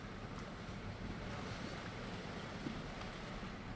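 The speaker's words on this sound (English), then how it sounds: "it's raining quite a bit now" Rain falling on a brook, with steady broadband hiss of drops and flowing water, continuous and fairly loud throughout with no voices.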